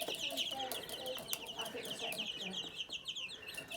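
Chickens and chicks in a farmyard coop cluck and chirp in quick, overlapping bursts at close range, fairly soft, with some faint background voices.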